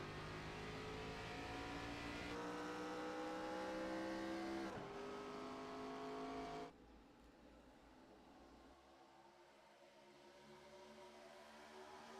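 A pack of stock cars roars and revs hard at the green flag at Daytona International Speedway in an iRacing Thursday Night Thunder race. The engine notes climb steadily and loudly, then drop to a quieter, distant drone.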